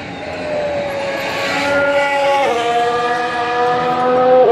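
Formula 1 cars pass by at 2019 pre-season testing, a rising engine whine with harmonic tones sweeping down as one car goes past, growing louder toward the end, with no voices.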